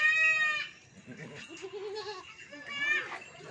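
A goat at a farm in Pakistan kept with its kids bleats loudly and nearby, with more bleats and farmyard noise mixed with voices talking.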